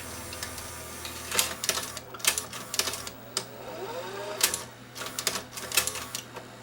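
A Sony SL-HF750 Betamax VCR mechanism reloads a tape, giving a series of close mechanical clicks, whirs and clunks in irregular bursts over a steady low motor hum.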